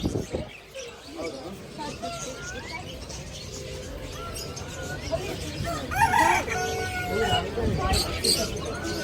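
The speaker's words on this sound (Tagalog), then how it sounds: "Nasa diri atong manok no." A rooster crows loudly several times amid busy outdoor background noise, with people talking nearby.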